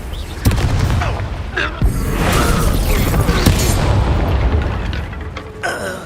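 Confringo explosive spell cast in the video game Hogwarts Legacy, a series of loud booming blasts and rumbling impacts with crackling debris, dense and close throughout.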